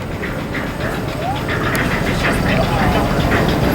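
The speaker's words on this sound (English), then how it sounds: "Got a very impressive lineup of smoky steam engines here, look." Steam road rollers running at a steam fair in Dorset, a continuous hissing, chuffing engine noise with mechanical rumble, fairly close and steady, while someone talks over it.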